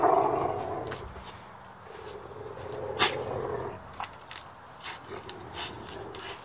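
Two pit bulls growl and snarl in short bursts during rough tug-of-war play on a rope, with scuffling and a few sharp yips at moderate distance.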